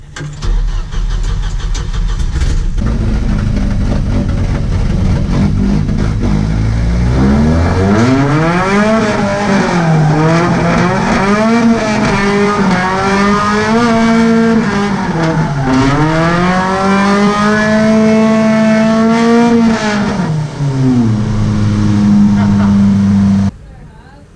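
A full drift-spec Toyota Soarer idles, then its engine climbs through a long series of loud, sweeping revs and gear pulls, rising and dipping repeatedly before cutting off abruptly near the end.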